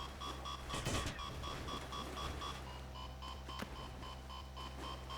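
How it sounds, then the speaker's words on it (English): Alarm in the survival game Sunkenland, a repeating electronic beep pulsing at a regular rhythm over a low background hum, with a brief whooshing burst near the start. "Why are you beeping?"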